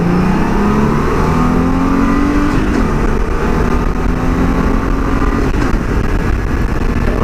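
A car engine under load during a power test, around 1800 RPM, holds a loud continuous drone whose pitch climbs steadily, then resets and climbs again.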